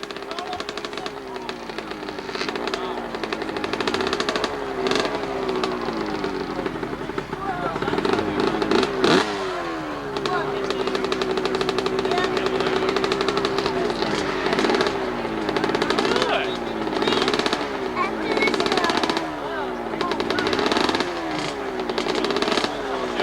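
Kawasaki 80cc motorcycle climbing the Whaleback hillclimb in Enfield, New Hampshire, its two-stroke engine revving hard in repeated rising and falling bursts, loud and near, with crowd voices and commentary underneath.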